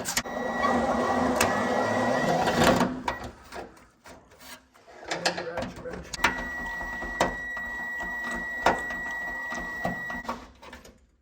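A ratchet wrench works a seven-millimeter bolt on a G-body fender, giving a quick, close clicking rasp in bursts with short pauses between, with some metallic handling noise in the garage.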